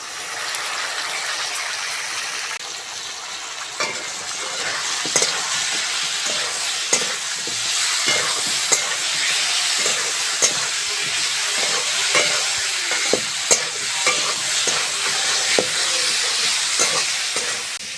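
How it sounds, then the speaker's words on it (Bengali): Spices sizzling and frying in a pan for a Bengali mustard-paste fish curry, with salt, turmeric, chilli powder and cumin paste, stirred often, making steady close hiss broken by frequent sharp scrapes and clacks of the spoon. "মশলাগুলো ভালো করে ভেজে নিয়েছি"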